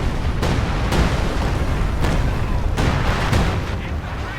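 Artillery fire pounding the Medic HQ in a strategy game, a loud dense rumble of booms and explosions with several sharper blasts punctuating it, fading slightly at the end under some talk.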